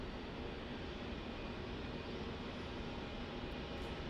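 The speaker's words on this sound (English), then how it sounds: "So here we have that Virgin Australia departure now" A Virgin Australia airliner roars steadily as it departs runway 16 at Melbourne Airport, a loud, unbroken broadband engine rush lasting several seconds with no voices.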